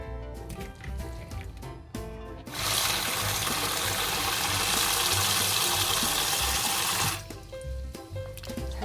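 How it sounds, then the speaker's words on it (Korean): Running tap water pours steadily into a sink while sea snails from a reef shore are rinsed, the gushing stream rising abruptly, holding for several seconds, then cutting off, with quieter handling noises around it. "이거는 한번 좀 깨끗한 물에다가 흐르는 물에다가 좀 씻어야 될 것 같아요"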